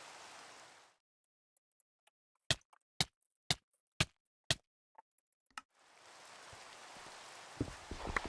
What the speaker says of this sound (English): I wish it would stop freaking raining.